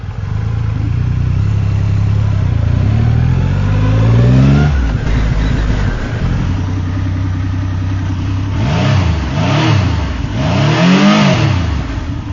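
Loud, close motorcycle engine idling and then revving repeatedly, the pitch climbing and falling in several sharp throttle blips.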